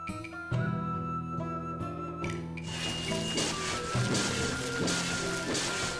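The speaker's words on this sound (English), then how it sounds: "It's raining." Rain in the farming video game Sakuna: Of Rice and Ruin: after soft musical tones, a steady dense downpour hiss begins and continues, fairly loud and constant.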